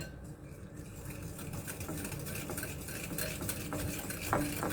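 Banana cake batter with coconut cream and cornflour is stirred in a bowl, a continuous scraping, swishing rhythm with light clinks of the spoon, close and moderately loud, no voices.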